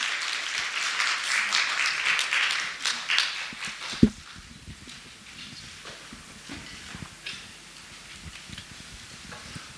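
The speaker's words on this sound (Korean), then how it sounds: "우리 두 분께 한번 큰 박수 한번 부탁드리겠습니다" A church congregation applauding two deacons back from a lay mission trip, a burst of clapping across a large room for about four seconds that fades into shuffling and light taps.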